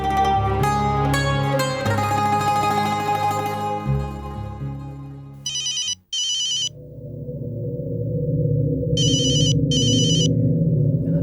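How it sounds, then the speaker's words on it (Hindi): A telephone rings in two pairs of short electronic trills, cutting in over steady background music. "कब से फोन बज रहा है आपका, उठा तो लो।"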